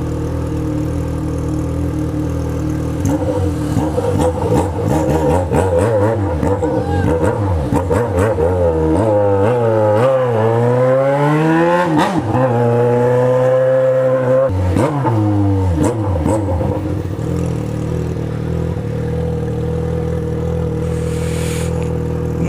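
A young rider's loud motorcycle revving hard: steady engine roar with rising and falling revs that climb sharply mid-way, then settle back to a rough idle, close and continuous.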